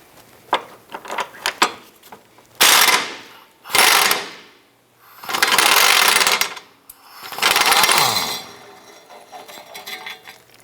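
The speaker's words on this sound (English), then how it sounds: "we're going to go ahead and start to remove the two rear 18mm bolts" Rear 18mm subframe bolts on a 2008-2013 Nissan Rogue are loosened with a ratchet: a few quick clicks, then four loud bursts of rapid ratcheting, each lasting about a second, close up with no talking.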